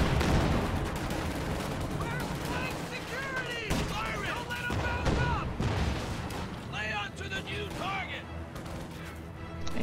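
An anti-tank gun fires in a World War II strategy video game amid a dense battle soundscape, with booming shots, crackling gunfire and explosions over constant loud combat noise and game voice chatter.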